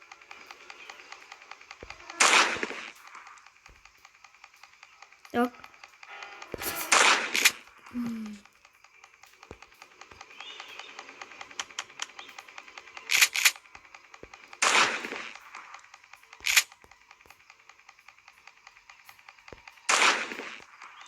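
Sharp bursts of gunfire in the game Granny: Chapter Two crack out every few seconds, some single shots and some quick volleys, against a quiet electronic background.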